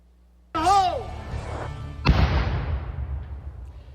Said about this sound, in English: that explosion was controlled and intentional